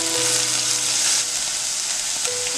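Rice noodle upma seasoned with turmeric, salt, sugar and lemon juice is mixed in a hot pan, sizzling loudly and steadily up close while a utensil stirs.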